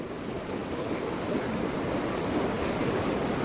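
A flooded river in Kalaktang rushes in a dense, unbroken roar, loud and close near a hanging bridge, with wind adding to the steady torrent.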